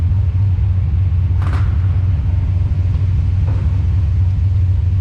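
A Foxbody Mustang idling with a deep, muffled exhaust, a steady low rumble held close and loud throughout, with a faint brief sound on top partway through.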